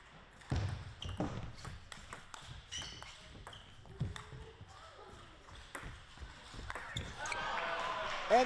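Table tennis ball bouncing and being struck in a rally at a Pan American Cup round of 16 match, scattered sharp ticks among crowd murmur and a commentator talking.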